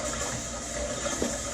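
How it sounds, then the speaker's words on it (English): Water runs and swishes steadily as rice is rinsed in a rice cooker insert, a constant close hiss with faint sloshing and no talking. "I'm going to rinse the rice at least 3 times"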